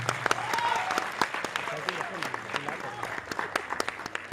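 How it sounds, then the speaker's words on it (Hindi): Applause in a college hall at a comedy show, with sharp individual claps standing out over a crowd, while voices and cheering mix in beneath the clapping. "एक बार जोरदार ताली लगाकर कॉलेज हॉल के पूरी माहौल को बदल दें।"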